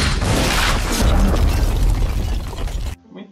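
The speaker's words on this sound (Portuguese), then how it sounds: "Bombinha" A loud firecracker bang sound effect: a sharp, explosive burst that spreads into a dense, crackling roar for about three seconds, then stops abruptly into near silence.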